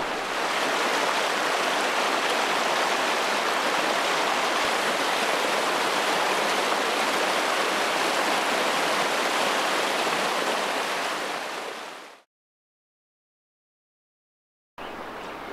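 A New Zealand West Coast river flows past in a loud, steady broadband rush close by, then cuts to silence for a few seconds before the rushing water returns.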